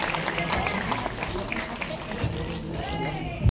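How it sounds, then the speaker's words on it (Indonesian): An audience claps for an invited author at a stage event, a moderate round of scattered hand claps blended with crowd murmur and some voices, fairly even before a brief louder burst at the very end. "tepuk tangan buat Muhyiddin M."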